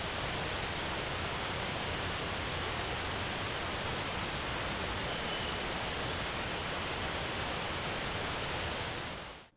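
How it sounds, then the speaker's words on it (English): Waterfall ambience layered with forest sounds, a dense, steady broadband rush of falling water that holds constant throughout and cuts off abruptly at the end. "this clip of a waterfall obviously uses some of the waterfall sounds as well as the sound from"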